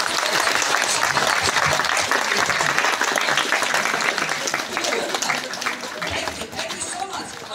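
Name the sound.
audience clapping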